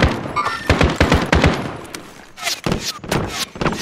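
Gunfire in Call of Duty Modern Warfare, rapid bursts of close, loud shots in uneven clusters with punchy low thumps, a short lull, then more volleys.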